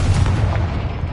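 A Confringo blasting spell explodes in the Hogwarts Legacy video game, a single loud, close, bass-heavy boom with a rumbling blast that fades over about a second.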